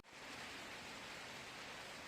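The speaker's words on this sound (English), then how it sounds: "Well, it's raining" Steady rain falls outside on a street in Brasov, Romania, a constant soft hiss of drops that stays even and fairly quiet for the whole stretch.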